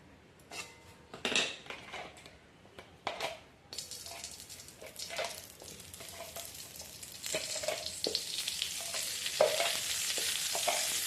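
Frying and stirring in a pan while making poha laddoo, with a spoon scraping and clinking against the metal amid a steady sizzle that grows louder and denser through the second half.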